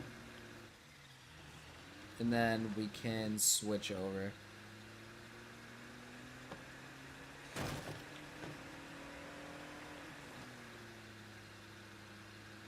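A car engine idles steadily at low pitch throughout, with a voice talking over it and some clunking, door-like knocks and brief revving in the middle.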